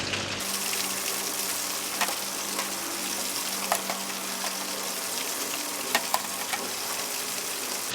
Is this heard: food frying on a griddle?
yes